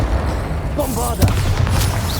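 The Bombarda explosion spell goes off in Hogwarts Legacy, a deep booming blast with a rumbling tail, while a voice calls out over it.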